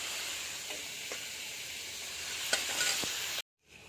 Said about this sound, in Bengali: ঝিঙেগুলো ভালো করে নাড়াচাড়া করে ভেজে নিলাম